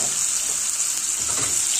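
Garlic frying in oil for a petchay and tokwa stir-fry makes a dense, even sizzling hiss that holds constant and close throughout, with no voices.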